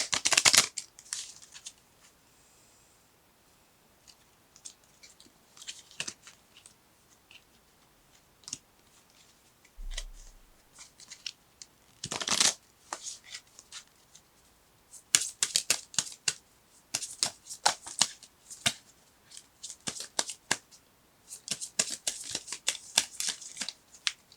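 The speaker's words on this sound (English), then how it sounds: "I have to pull the romance cards from your romance." Tarot cards shuffled and pulled during a card reading, giving scattered bursts of riffling and flicking with quiet gaps between, near and fairly soft, with no talk.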